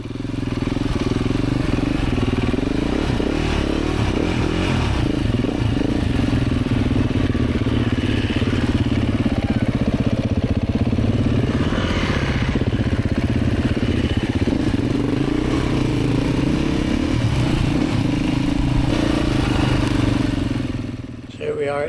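A motorcycle rides along a narrow hedged country lane in the Lune Valley near Melling, its engine a loud, continuous close drone with clattering and wind rush, while a rider speaks over it.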